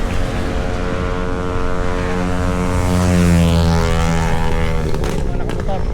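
A motorcycle engine drones past in a rising and falling pass, heard loud and close alongside a moving bicycle, with talk briefly over it.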